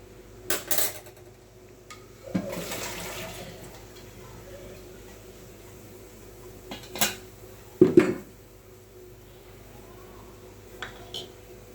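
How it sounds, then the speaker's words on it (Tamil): A few metallic clanks and knocks as a kadai is set on the stove for cooking black chickpea sundal, one louder clatter near the end, with quiet pauses between. "இப்போ நம்ம அடுப்பில் கடாயை வச்சு"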